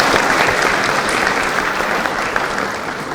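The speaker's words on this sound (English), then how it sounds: "give a big applause to our distinguished guest, Madam Georgieva." Steady, dense applause from an audience at a Central Bank of Uzbekistan event, welcoming a distinguished guest, Kristalina Georgieva, sustained and fairly loud throughout with no pauses.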